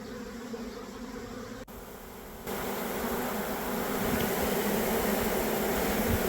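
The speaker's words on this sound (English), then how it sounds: "once the bees were in the nuke box, you can see they began fanning the queen's pheromone" A dense, continuous buzz of many honeybees fanning at a nuc hive box fills the air, steady and close, growing slightly louder and fuller partway through.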